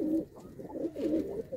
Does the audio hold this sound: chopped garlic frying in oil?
no